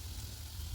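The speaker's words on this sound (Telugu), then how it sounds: "ఇవి ఫ్రై అవుతున్నాయి" Khoa gulab jamun fry in hot oil, a brief steady close sizzle and hiss, continuous and without talk.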